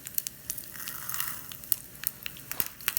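Chana dal and urad dal sizzle in hot oil with hing for sorakaya pachadi, a close crackling fry with sharp pops scattered throughout and a brief swell of hiss midway, no voices.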